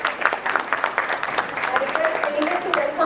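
Audience at a corporate summit at an institute claps as guests are welcomed onstage, a steady dense patter of hands filling the room, moderately loud, with a voice speaking faintly over it.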